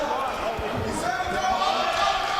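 Punches landing in a 57kg amateur boxing semi-final at the GB Open 2024, heard as a dense run of dull thuds and slaps over a steady roar of arena crowd noise.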